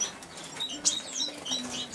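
A pair of Dybowski's twinspot finches with chicks flutter in an aviary, soft wingbeats mixed with short high chirps and tweets, close and fairly quiet, with one brighter burst of calls midway.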